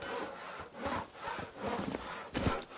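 Hooves of Geralt's horse Roach in The Witcher 3, clip-clopping at a quick steady trot on the ground, close and moderately loud, with no talk.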